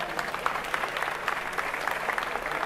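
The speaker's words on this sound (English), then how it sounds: "Give yourselves a round of applause." Concert-hall audience at a Philharmonic Orchestra of Jamaica performance giving warm, sustained applause, a dense patter of many hands at moderate level with no talking.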